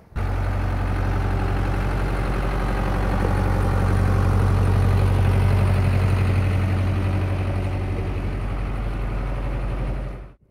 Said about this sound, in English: And there's the tractor pulling him out, look.